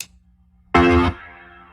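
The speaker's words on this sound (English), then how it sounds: "Overdriven reverb and overdriven organ." A brief gritty organ chord from a Boss Organ Lunchbox with overdrive on both the note and its reverb, ending in a fuzzy, decaying tail after a short quiet lead-in.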